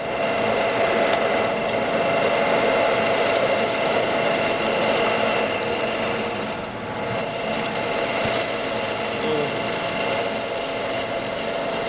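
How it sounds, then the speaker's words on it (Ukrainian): A power drill bores into a 25 mm-long steel nut with a 16 mm, 1.5-pitch thread, giving a steady, close grinding and rasping whine that runs unbroken, with a brief dip partway through and no voices. "і сверлимо"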